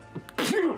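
A voice imitates a heavy, explosive sneeze during a tabletop role-playing game battle, a short wet burst after a brief intake.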